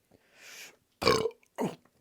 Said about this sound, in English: Here comes a burp.